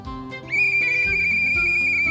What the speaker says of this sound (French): Encore le sifflet.